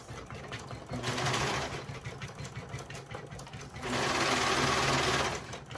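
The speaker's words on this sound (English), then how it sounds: "The lovely thing about a serger is it goes fast." A serger sewing machine runs fast in two loud bursts, a steady high whir with a rapid mechanical chatter, separated by a quieter stretch of lower motor hum and small clicks.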